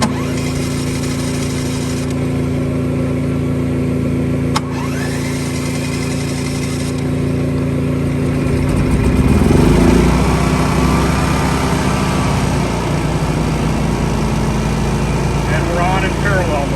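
A portable generator, one of a pair set up for parallel running through a transfer switch, is pulled to life on choke and settles into a steady, fairly loud engine drone, with voices talking over it.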